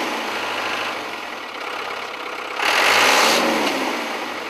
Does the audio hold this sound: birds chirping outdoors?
no